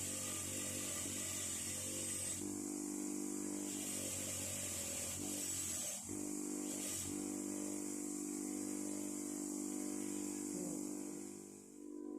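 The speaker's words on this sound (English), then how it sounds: "we'll just show you again the wire wheel getting right in there and taking off all that black residue" A motor-driven wire wheel grinds against a Bemis and Call spanner, stripping black residue from the steel in a steady, loud whine with a few brief dips in pitch and load.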